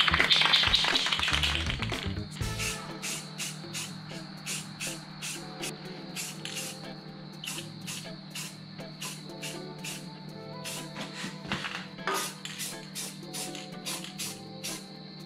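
A loud spray paint hiss opens, then fades into a run of sharp, irregular ticks and clicks over a low steady hum, shiny black paint sprayed over welds on an excavator hitch.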